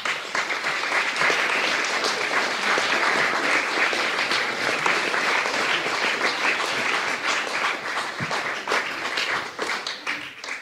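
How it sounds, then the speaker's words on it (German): Warm applause from an audience greeting a performer at a Pratteln community event, many hands clapping densely and loudly with some sharper individual claps, sustained for about ten seconds before easing slightly. "Bitte empfangen Sie mit einem warmen Applaus"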